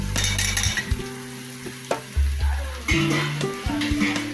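Ground spices go into a pan of frying onion and tomato, giving a close sizzle broken by several hard scraping and knocking bursts of stirring against the pan.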